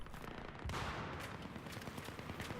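Gunfire in the video game Battlefield 3 during a multiplayer match, with a dense burst of rapid rifle shots and a heavier blast partway through, loud and continuous in the foreground.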